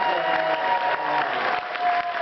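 Brief, steady applause from a convention audience at a live science show, a dense wash of clapping with a faint voice tone threading through.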